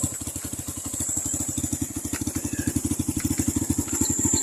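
A motorcycle engine idles nearby with a steady, fast, even putter of low pulses that continues throughout at a constant moderate loudness.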